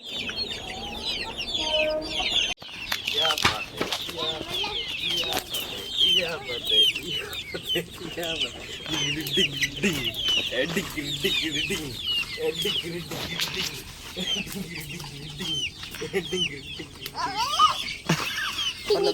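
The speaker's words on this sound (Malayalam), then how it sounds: "കോഴികൾ കുറച്ച് കുഞ്ഞു കോഴികളൊക്കെ തുറന്നിട്ടുണ്ട്" Chickens cluck and chirp busily nearby on a village farm, with small chicks peeping among them, continuous over outdoor background and some distant voices.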